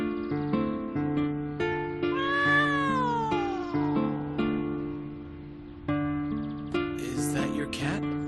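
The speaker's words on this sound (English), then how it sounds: "Is that your cat?" A cat meows repeatedly in a long, wavering, insistent series, some calls rising into drawn-out caterwauls, heard close over a steady background of music and ambient sound.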